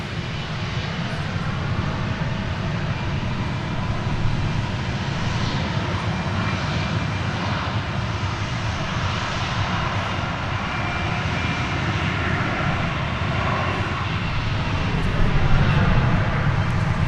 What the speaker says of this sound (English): Korean Air cargo plane right there.